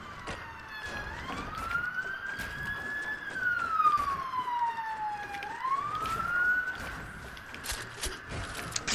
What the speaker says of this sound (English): Police sirens piss me off.